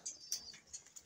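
A pigeon in a breeder cage gives a few soft, faint coos in quick succession, heard up close in a quiet space.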